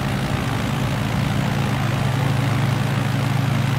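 The propeller engine of a Zlin Savage Cub in Microsoft Flight Simulator 2020, on a sunset flight from Ninoy Aquino International Airport, holds a steady, loud droning hum at constant pitch throughout.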